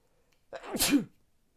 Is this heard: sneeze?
yes